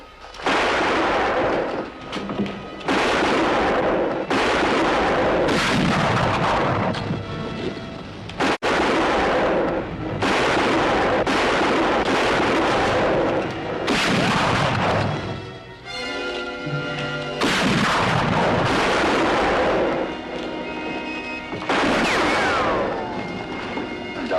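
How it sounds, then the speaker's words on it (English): Gunfire in a Western drama, repeated loud shots fired through a window, each sharp blast trailing into a long rumbling echo, spaced a few seconds apart over the stretch with a brief metallic clatter midway and no talk. "About every minute, fire through the window."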